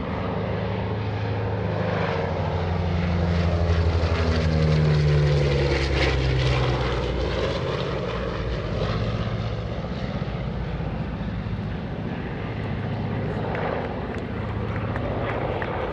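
The radial piston engines of the Boeing B-29 Superfortress 'Doc' drone loudly at AirVenture, a thick, throbbing propeller roar with a slowly shifting pitch as the bomber moves nearby, steady and continuous without speech.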